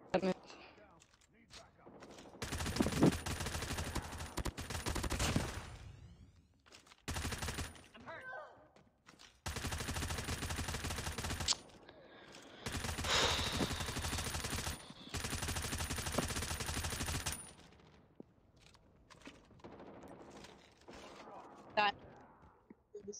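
Gunfire in Call of Duty Mobile comes in several long, loud sustained bursts of automatic fire separated by quieter gaps, with people talking between the volleys.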